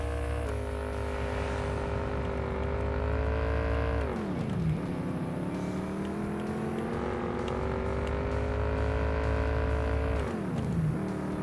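A BMW M760Li's engine drones loudly and steadily while climbing a hill in low gear, with its pitch rising slowly and then dropping twice as the driver shifts or lifts off.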